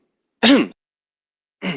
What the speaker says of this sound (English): I just coughed.